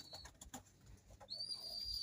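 Pigeons give several soft, low coos in short pulses, close by, and a thin high whistling tone joins partway through and holds.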